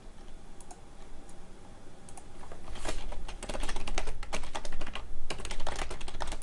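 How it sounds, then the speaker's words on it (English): Heavy, loud typing on a computer keyboard, a quiet scattering of keystrokes at first that builds into rapid, forceful bursts of clacking, close to the microphone with no talking. "I know my keyboard is probably really loud. I'm typing very heavily today"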